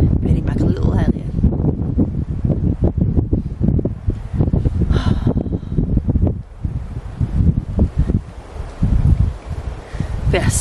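Wind gusts and buffets a microphone at a wild campsite on the North Yorkshire Moors, with continuous low rumbling and rustling. A person talks over it.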